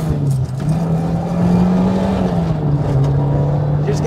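A Toyota AE86 with a 4AGE engine and six-speed gearbox on a mountain touge road, its engine droning steadily and loud, with a rev-matching blip during a 3-2 downshift.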